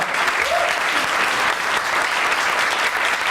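A startup competition audience at a results announcement breaks into sustained, even applause, a dense crowd of clapping hands filling the room at steady volume throughout.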